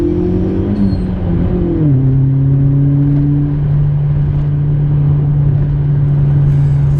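A Mk1 Volkswagen GTI's engine drones loud and steady from inside the moving car, the pitch dipping once as it shifts, then holding an even cruising hum with road noise underneath.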